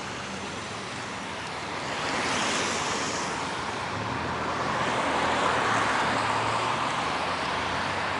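Rain falls during a bike ride through Toronto streets, heard as a continuous broadband wash mixed with wind noise and distant traffic, swelling and easing over several seconds with no talking.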